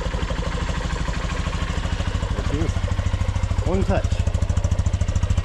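Honda XR150L motorcycle engine idling steadily after a cold start at about 38°F with the choke off, a rapid, even low putter throughout, with a person talking briefly over it.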